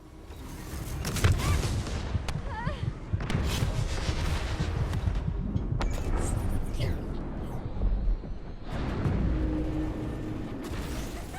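Repeated gunfire aimed at a boss's shield in The First Descendant, with bursts of shots, mechanical clanks and booming impacts running steadily for several seconds, a voice talking over the combat.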